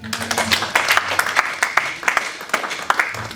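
A church congregation applauds the Lord, with a steady wash of many hands and sharp individual claps standing out at a moderate distance over a faint low hum.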